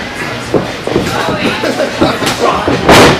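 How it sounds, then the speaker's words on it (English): Heavy thuds and slams of a wrestler knocked down onto the ring mat at a wrestling event, several impacts in quick succession under excited commentary and crowd noise. "and a chop, knocking Derrick Dalton down"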